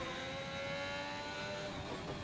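A Formula 1 car engine in the racing game F1 2021 drones at a high, sustained pitch with layered harmonic whine, holding steady and loud at racing speed on the Canadian circuit without pause.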